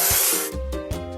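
A spray can hisses in a truck construction video game as a bright burst of paint covers discoloration, followed by short musical game tones, close and clear with no talking.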